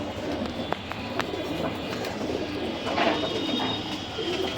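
Pigeons cooing at feeding time, soft repeated coos and bird calls over a steady faint background with a few sharp clicks, no talk.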